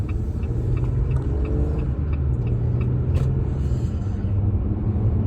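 A car rolls along a residential street near Weeki Wachee Gardens with a steady, close low engine and road rumble, and a brief faint tick partway through; no speech.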